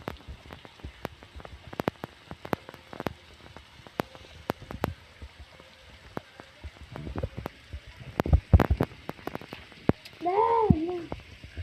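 Rain falls in the forest survival video game 99 Nights in the Forest as scattered individual drops tapping sharply at irregular intervals, fairly quiet overall, with a brief voice-like sound near the end.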